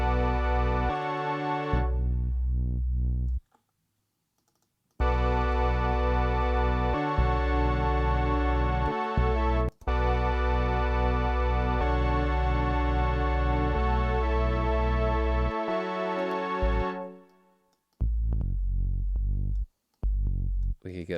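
A distorted bass line synth built in Serum plays a thick, gritty sustained pattern, loud and upfront, with brief drop-outs and rhythmic pauses between phrases and a short glitchy tail near the end.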